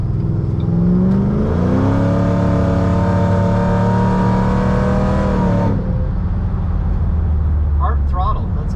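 A supercharged Ford Mustang pulls hard at part throttle, engine note climbing steadily for several seconds before the revs drop off, loud and close from inside the car.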